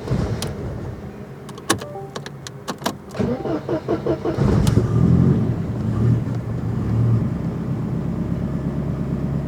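A Mercedes 190E fitted with a swapped M111 engine cranks with a few sharp clicks, catches and settles into a loud, close, steady idle hum with slight revving, no talk.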